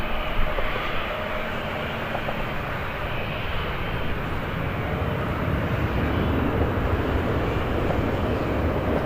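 A jet airliner landing on the runway at Birmingham airport makes a continuous, loud, broadband roar that holds steady throughout, with no voices.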